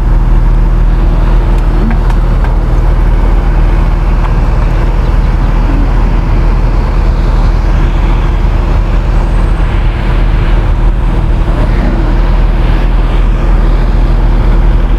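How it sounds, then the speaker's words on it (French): A Porsche 911 passing on a road, heard as a loud, steady engine and tyre rumble over continuous traffic noise, close to a cyclist out on a ride. "La Porsche 911."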